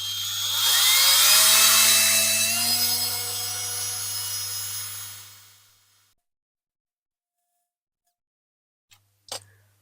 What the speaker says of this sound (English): So here we go, with a small drill, just to get it started.